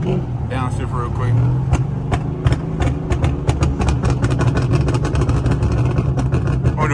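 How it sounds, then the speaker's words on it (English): SRT car engine downshifting and accelerating, rising rev roar with clicking and ticking transients, heard close inside the cabin over a continuous low rumble. "Downshift real quick."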